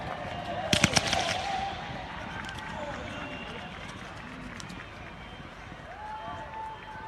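Diwali fireworks in Gravesend: a quick burst of sharp crackling pops early on, then a fading rumble and hiss of distant explosions under crowd murmur and people talking.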